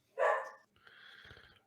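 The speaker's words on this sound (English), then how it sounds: "And I have a dog barking" A dog barks once loudly and close, followed by quieter yips and whimpering sounds, with no talking over it.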